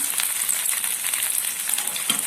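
Masala-coated fish frying in oil in a pan gives a steady, close hiss and crackle, with a dense sizzle running unbroken and no one talking over it.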